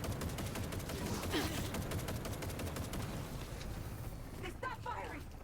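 Gunfire in Cyberpunk 2077 Phantom Liberty: dense, continuous volleys of shots crackle throughout, with voices shouting over the fighting near the end.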